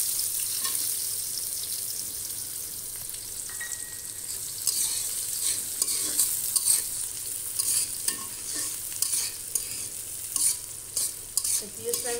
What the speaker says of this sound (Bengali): এবার আমি কুচানো পেঁয়াজ গুলো দিয়ে দেবো।